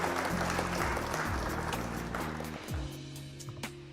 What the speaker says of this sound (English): Round of applause for our opponent.